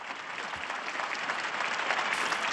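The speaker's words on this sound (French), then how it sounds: "Je vous demande d'applaudir le Chili et le Pérou," A large crowd claps steadily in a public square during a general audience, dense continuous applause with no voices over it.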